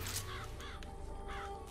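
Crows caw from the Murder of Crows power in the video game BioShock Infinite, a quick run of harsh, raspy caws heard faintly and close together.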